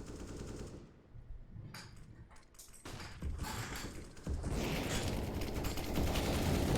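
Rapid automatic gunfire bursts in a Counter-Strike esports match, Valkyrie versus Pryde in ESEA Advanced, with shots trading back and forth, mechanical clicks between volleys and a dense, loud barrage building near the end.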